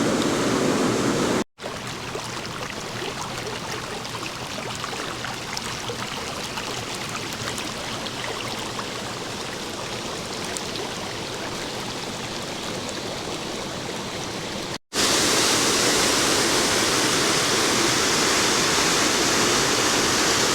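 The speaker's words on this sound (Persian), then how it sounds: "صدای قطرات آبی که از بند همبستگی سنگجوی لومان خارج میشه و از آبشار بند سرازیر میشه" Water from the Luman stone dam spillway pours steadily over the waterfall in a loud, continuous rushing roar, with a brief cut near the start and a brighter, fuller burst of falling water near the end.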